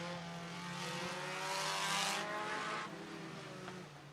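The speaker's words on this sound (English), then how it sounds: "20 laps for your Mach 1 Racing Solutions IMCA Sport Compacts is going to begin" IMCA Sport Compact race cars pull away at the start of a 20-lap race at Sunset Speedway Park, their engines a distant, rising drone that swells to a peak and then eases off.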